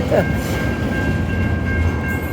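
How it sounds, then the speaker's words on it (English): A train rolls past right beside the tracks along a walking trail near Old Ferry Road, producing a steady close rumble and rushing noise with a faint high tone running throughout. "I got to get the train right up close"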